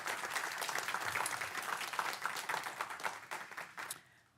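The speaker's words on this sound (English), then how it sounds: "So please, let's just give them a round of applause for 50 years." Audience at a council meeting applauds a 50-year honor: a dense, lively round of clapping that holds steady, then thins and fades out near the end.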